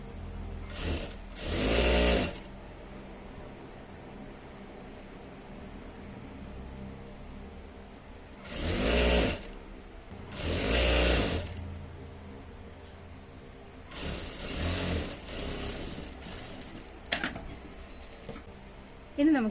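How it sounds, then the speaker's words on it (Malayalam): A sewing machine runs long gathering stitches along the waist of a child's frock, sounding in three or four short bursts of a second or two, separated by quieter handling noise and room hum. "നമുക്ക് വേസ്റ്റിന്റെ ഭാഗത്ത് ലോങ് സ്റ്റിച്ച് ഇട്ട് കൊടുക്കാം നമുക്ക് ഫ്രില്ല് കൊടുക്കാൻ വേണ്ടിയാണ്"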